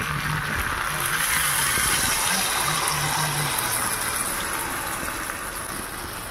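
Strained raw tamarind pulp liquid pours into a cooking pot for a sour chanda fish dish, a close, steady gushing trickle of liquid with no talking.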